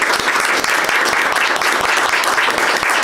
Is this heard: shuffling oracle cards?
no